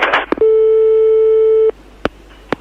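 A telephone busy signal after a dropped call: a single steady, loud tone held for over a second, bracketed by handset clicks and short bursts of line noise.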